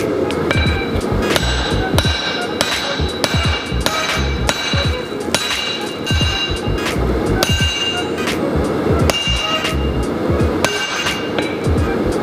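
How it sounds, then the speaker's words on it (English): A mild steel drift struck with a hammer on a thick steel striking plate while forging a forest axe, ringing metallic blows landing in a steady repeated rhythm, close and loud throughout. "this is just a drift that I made out of mild steel"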